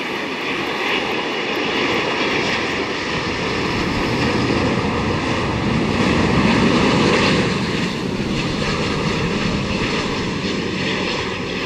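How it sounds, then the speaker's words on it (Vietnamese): China Airlines Airbus A350-900 jet landing at Tan Son Nhat airport after a flight from Taoyuan, Taiwan, a loud steady engine roar that swells toward the middle and eases slightly, with no speech. "Mời mọi người chiêm ngưỡng pha hạ cánh của chiếc máy bay này đã nha."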